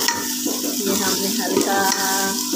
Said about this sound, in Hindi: अब हम इसको भूनते जा रहे हैं।